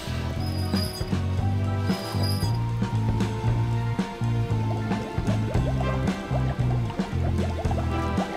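In the Lego City Undercover video game, water drains away with bubbly, gurgling liquid sounds over a rhythmic game music loop, steady and continuous.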